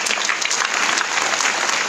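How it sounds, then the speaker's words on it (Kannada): Sustained applause from an audience at a spiritual speech in an auditorium, steady dense clapping filling the whole stretch with no talk. "ಚಪ್ಪಾಳೆ ಹೊಡೆಯೋದು ನಾನು ನೋಡಿ"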